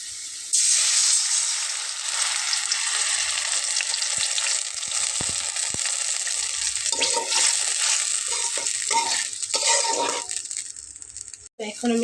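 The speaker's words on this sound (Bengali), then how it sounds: "পেঁয়াজটা একটু এরকম ভাজা হয়ে গেলে আমি এর ভেতরে একটু পানি দিয়ে নেব।" Onions frying in a pan burst into loud, steady sizzling as a little water is poured in, a broad hissing hiss with some clatter and stirring toward the end, for a Bengali-style kochur loti dish.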